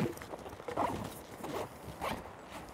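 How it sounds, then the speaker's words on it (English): A zipper on a fly-fishing pack's secondary pocket is pulled open in a few short, scratchy strokes, close by and fairly quiet, with no one speaking. "Inside here, you've also got a secondary zipper pocket."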